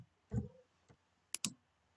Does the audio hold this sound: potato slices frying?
no